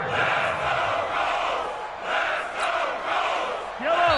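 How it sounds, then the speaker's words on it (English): A stadium crowd in an American football video game roars in rolling surges, loud and continuous, swelling before a big third down late in the fourth quarter, with a few brief whistle-like tones near the end. "the crowd getting into it as we come up on a big 3rd down"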